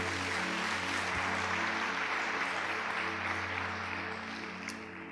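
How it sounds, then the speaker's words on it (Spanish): A church congregation applauds loudly and steadily as a dense wash of clapping, holding strong before slowly thinning toward the end. "Y le damos un aplauso bien fuerte al Señor"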